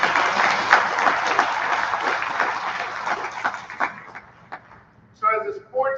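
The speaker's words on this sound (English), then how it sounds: "So why don't we edge them on by giving them a big round of applause." Audience applause rings out at a college athletic awards program, a thick burst of clapping that thins into scattered claps and fades before a voice starts speaking.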